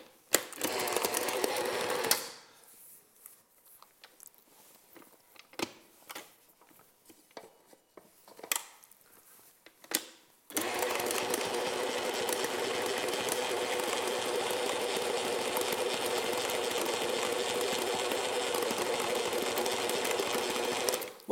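A stand mixer kneads brioche dough, first at a lower whir, then after a pause of scattered clicks and taps it runs at speed 3 with a loud, steady mechanical hum that continues to the end.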